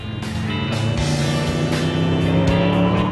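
A powerful sports car engine roars steadily and loudly, its revs rising and falling with a rough, whining edge throughout.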